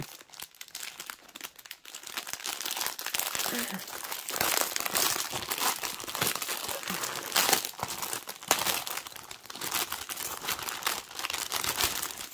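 Plastic packaging from a cross-stitch supply order crinkles and rustles continuously as hands search for a way to open it, loud and close, with a voice speaking intermittently over the noise.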